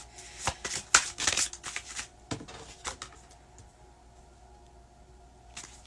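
Tarot cards being shuffled by hand in quick riffling bursts, crisp and close at first, then trailing off into a quiet pause with one last faint flick at the end.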